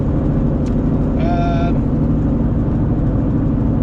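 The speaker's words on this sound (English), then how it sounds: "that's a Jeep. It's kind of like half a truck," A Jeep drives past close by, its engine a loud, steady low drone. A short horn-like tonal blip cuts in briefly partway through.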